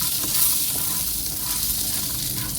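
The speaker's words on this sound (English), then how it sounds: "And then I keep on stirring. And I keep on stirring." Food frying and being stirred in a pan, with a steady close sizzle and continuous scraping of the stirring throughout, no talking.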